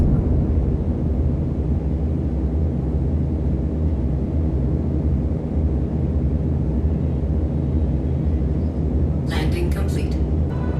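A Star Citizen spaceship sets down on landing gear, a steady low engine rumble and hum holding throughout, with a brief burst of higher sound near the end.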